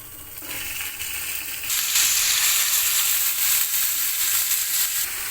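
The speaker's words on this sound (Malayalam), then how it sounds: "ചിക്കനൊന്ന് ഇളക്കി കൊടുക്കാം" Chicken pieces seasoned with pepper powder, salt and turmeric fry in a hot pan while being stirred, a close, loud steady sizzle that grows stronger partway through, with scraping from the stirring.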